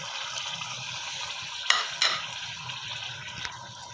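Chopped juicy tomatoes and green chillies are stirred into chicken karahi in a pan, a steady sizzle under a few sharp spoon scrapes and clinks against the metal, close up and without any talking.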